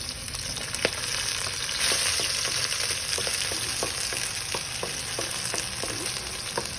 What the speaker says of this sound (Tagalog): we're gonna saute the garlic. And then saute the spring onions and the white onions.